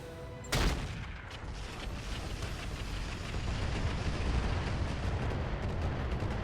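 Artillery fire in the mech combat video game RogueTech, one sharp loud blast followed by a sustained, dense rumble of distant explosions and gunfire with no talking.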